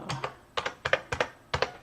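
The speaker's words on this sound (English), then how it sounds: "type in the password" Keys on a computer keyboard clack in quick pairs and short bursts as a password is typed, about ten crisp close taps in under two seconds, alone with no talk.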